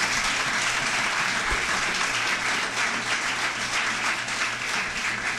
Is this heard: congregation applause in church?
yes